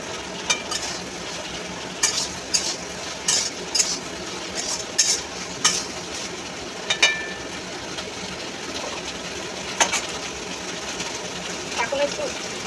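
Prawns sizzle steadily in a pan while a metal utensil scrapes and clinks at intervals, and a voice talks over the frying.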